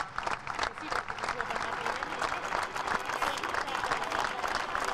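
Dense, steady applause from a large crowd lining the route of a funeral cortege for a former president of Uruguay, a continuous clapping roar with no breaks throughout.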